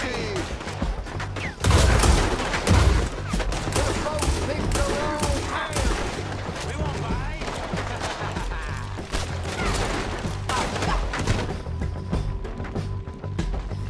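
Dense gunfire from the Red Dead Redemption 2 game during a jailhouse shootout, rapid overlapping shots and volleys with a loud burst near the two-second mark, continuing thickly throughout amid shouting voices.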